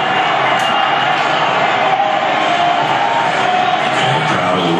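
Boston baseball stadium crowd at the World Series, Red Sox game, a loud dense roar of cheering and whooping that holds steady and close throughout.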